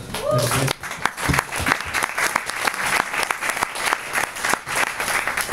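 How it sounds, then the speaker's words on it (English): An audience claps for a speaker at a business networking event, loud sustained applause with a voice briefly heard at the start. "if we could all clap for Michael."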